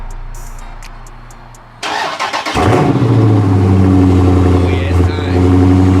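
A Dodge Charger Daytona fitted with a race-style exhaust cranks and fires after a quiet pause, then settles into a loud, deep, steady rumble with a brief rev. People talk nearby before and over it.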